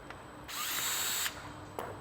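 A power driver loosens long number 3 Phillips screws on a Vespa Sprint/Primavera air box, a short close high-pitched whirring burst followed by a brief second buzz.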